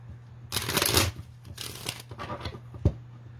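Playing cards shuffled by hand, a couple of quick riffling bursts close up followed by lighter flicks and a sharp tap, with a faint steady hum underneath.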